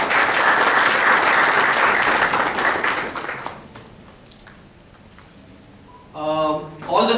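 A conference audience applauds the hosts with dense, loud clapping that fades out over a few seconds, followed by a brief stretch of room tone and then a voice speaking.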